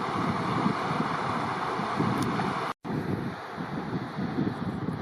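Steady gusting wind beside Mallock Creek in Banff on a backcountry trail, a loud continuous rushing roar buffeting the microphone, with one brief dropout midway.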